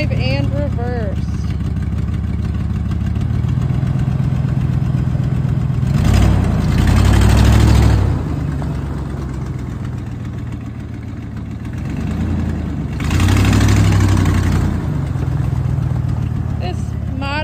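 A 1995 Ford F-250 4x4 XLT pickup fitted with a snow blade and salt spreader runs steadily at idle nearby, its engine swelling twice into brief louder bursts, with a voice talking over parts of it.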